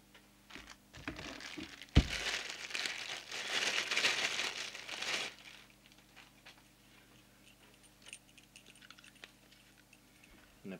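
Packaging from an Albrecht AE6199 CB radio is handled while unboxing: a sudden rustling, crinkling burst lasts a few seconds, then settles into sparse light clicks and taps in a quiet room.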